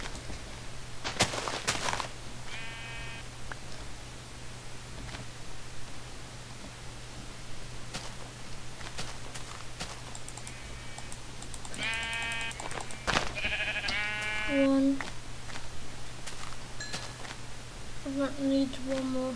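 Sheep in Minecraft bleat several times in short wavering calls, mostly toward the latter half, over a steady low hum and light background noise, with occasional soft voice-like sounds.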